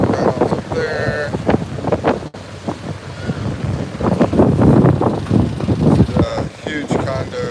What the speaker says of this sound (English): Pretty windy because upstate or upcountry here in the Philippines there is a super typhoon